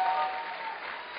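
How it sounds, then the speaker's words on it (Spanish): A church congregation claps during a Spanish-language sermon, giving a brief, steady burst of applause that sounds fairly soft and distant. "Dale un aplauso fuerte al Señor."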